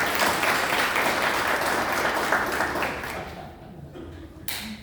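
An audience at a spiritual lecture gives a full round of applause that fades over the last second or two, ending in a few scattered claps and light stray noise.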